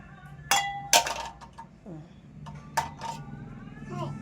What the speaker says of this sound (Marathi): हे शेवटचं तांब्या घास, मग पाणी चेंज कर आणि परत धु